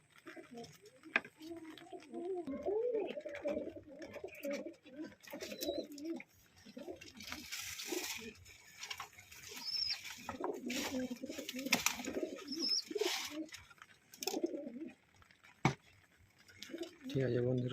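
A flock of pigeons at a home loft coos nearby in repeated low, throaty murmurs while they feed, with scattered pecking taps and wing flutters in between.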